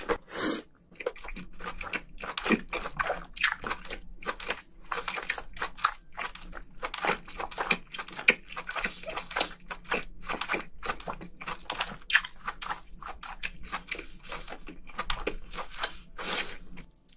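A giant lobster tail being eaten close up, with dense crunchy bites and wet chewing in quick irregular bursts, loud and alone with no talking.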